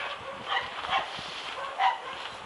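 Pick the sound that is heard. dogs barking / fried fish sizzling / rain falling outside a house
dogs barking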